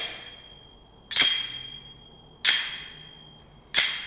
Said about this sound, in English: So first we have the quiet clicking.